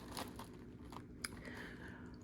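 Quiet, close crunching and chewing of keto spaghetti squash made as Asian noodles with a crunchy topping, a few soft bites and crackles spread across a couple of seconds.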